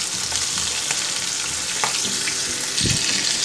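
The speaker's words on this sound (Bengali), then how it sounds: "আমার মাছগুলো ভাজা হয়ে গেছে" Bata fish fry in oil with a loud, dense, crackling sizzle that fills the whole stretch evenly, close up and without speech.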